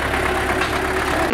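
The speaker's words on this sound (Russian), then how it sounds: "Поворотничек, тракторик едет." A toy tractor engine runs steadily throughout, a continuous mid-pitched idling chug with no pauses, fairly loud and with no voices over it.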